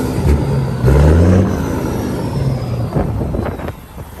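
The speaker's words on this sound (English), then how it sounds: "Go ahead and show the engine running well." A 1994 Peterbilt 379 truck engine idles nearby with a steady low rumble that swells briefly and settles back, its throb continuous and fairly loud with faint clatter and hiss on top.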